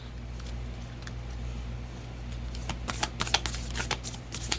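Moonology Oracle cards are shuffled close by, their soft riffling and flicking building into a quick flurry of crisp slaps over a low background hum.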